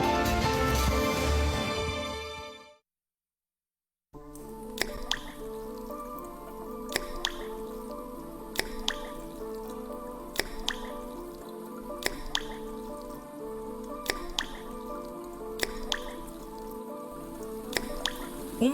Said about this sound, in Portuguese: Uma torneira pingando representa mais de 20 litros de água desperdiçados em apenas um dia.